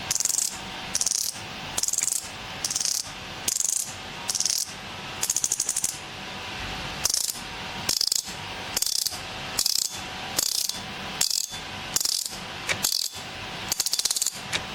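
A titanium fidget spinner clicks through its reversal mechanism in repeated loud bursts of rapid ratcheting, each lasting about half a second and separated by short gaps, with no talk.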